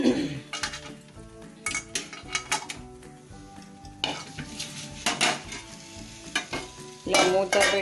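Bottle gourd and rice flour flatbread cooking in an oiled pan on a stove. The oil sizzles softly throughout, while a utensil scrapes and clinks against the pan in scattered bursts.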